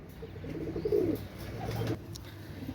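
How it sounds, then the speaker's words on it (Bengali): Pakistani red pigeons coo in low, repeated throaty phrases, close by and steady, with no voices over them. "পাকিস্তানি লাল পায়রি কবুতর।"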